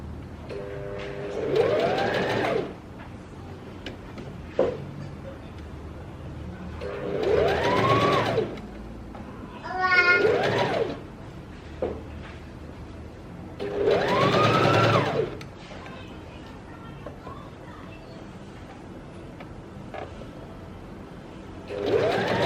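A sewing machine stitches a sleeveless Rosaleen dress in four separate runs of a few seconds each, quiet gaps between them, the motor whirring close and clear.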